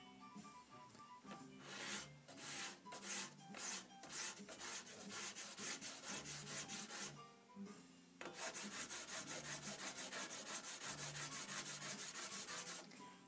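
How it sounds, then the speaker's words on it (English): A piece of asagi whetstone is rubbed to grind down a rough corner, making a steady, rhythmic gritty rasp of close strokes that pauses briefly near the middle before resuming more continuously. "This is a piece of asagi, and I'm going to first take down this little rough corner there."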